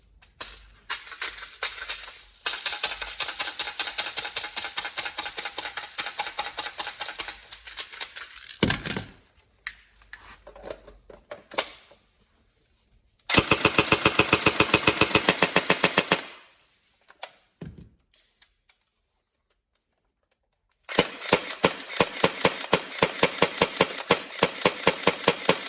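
A Tokyo Marui SGR12 AES airsoft shotgun, upgraded, fires in long rapid automatic bursts of sharp clacking shots, loud and close, separated by pauses and brief handling sounds.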